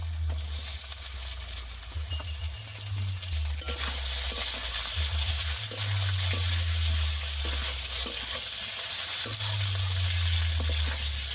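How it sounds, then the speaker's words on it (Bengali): Ginger, garlic and tomato sizzle and fry in a pan, a steady bright hiss running throughout with occasional stirring scrapes and a low hum underneath, close and fairly loud, no talking. "আদা রসুনটাকেও ভালো করে একটু কষিয়ে নেবো যতক্ষণ না আদা রসুনের কাঁচা গন্ধ চলে যায়"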